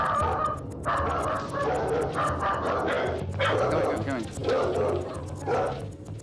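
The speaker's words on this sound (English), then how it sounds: "The bark that he did was not an aggressive bark, was a territorial bark." Abused pit bull barking territorially at a visitor entering a house, repeated loud barks and yips close by, with people talking over and between them.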